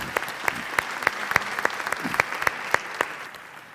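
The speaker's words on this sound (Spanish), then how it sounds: "Aplauso también para Román." An audience at a televised debate discussion applauds a participant named Román, with dense, steady clapping from a small crowd, fairly loud and close, sustained for a few seconds with no voices over it.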